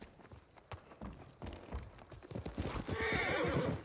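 A samurai horse in Ghost of Tsushima on PS5 trots with scattered hoof clops, then speeds into a quick run while letting out a loud whinny near the end.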